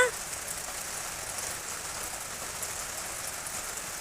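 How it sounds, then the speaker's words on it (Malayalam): Steady rain patters down in an even, continuous hiss, close by and unbroken throughout. "ദേവാവ കുറച്ച് നേരം മഴ കൊണ്ട് നടക്കണം."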